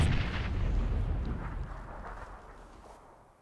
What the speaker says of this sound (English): Throwing grenades.